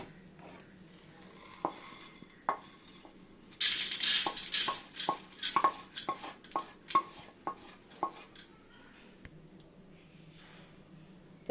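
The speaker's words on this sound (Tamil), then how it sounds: "நம்ம இதை ஒரு பிளேட்டில் கொட்டிக்கலாம்" Dry-roasted lentils for sambar powder are tipped from a pan onto a plate. A burst of rattling grains pours out, followed by a run of sharp, separate clinks as the pan is tapped and scraped.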